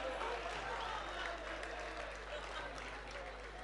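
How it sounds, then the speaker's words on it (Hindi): Faint audience applause at a Hindi comic poetry gathering (Hasya Kavi Sammelan, Jalore Mahotsav 2020), a soft wash of clapping heard from a distance over a low electrical hum. "तालियां बजाइए।"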